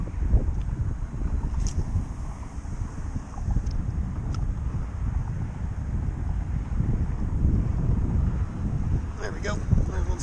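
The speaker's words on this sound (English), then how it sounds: "It's kind of a windy day." Strong wind buffets the microphone in a continuous low rumble while sea trout fishing, with faint water and boat sounds and brief clicks in the background.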